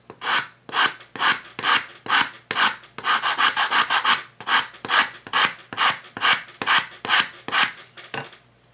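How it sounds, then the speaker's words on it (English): Rhythmic rasping strokes of sandpaper on a wooden Native American style flute, repeated back and forth at a steady pace, with a quicker burst of short strokes in the middle. "it's time to stop sanding"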